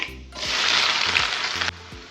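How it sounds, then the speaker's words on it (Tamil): Two medium-sized chopped onions drop into hot oil with fried fenugreek seeds, raising a loud burst of sizzling for over a second that then settles, with faint scrapes of stirring. "மீடியம் சைஸில் ரெண்டு பெரிய வெங்காயம் கட் பண்ணியிருக்கேன் இது சேர்த்துக்கிறேன்"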